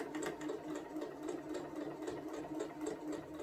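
A sewing machine quilting a placemat runs in a steady, continuous whir with a fast stitching rhythm, close and even throughout, with no talking.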